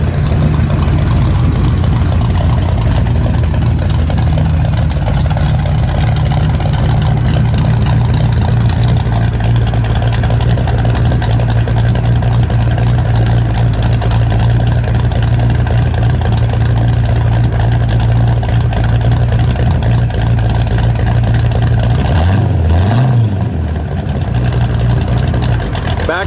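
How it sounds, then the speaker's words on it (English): A 1964 Ford Galaxie 500 XL with an aftermarket camshaft idles close by, a loud, steady low rumble with a slight uneven lope that runs without a break. "Got a little bit of a camshaft to it, you know, it's got a little thumpity thump."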